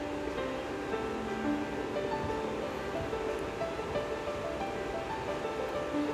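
The Ganges flows behind a riverside hotel in Rishikesh, a continuous rushing wash of water, steady and full throughout, with no voices over it.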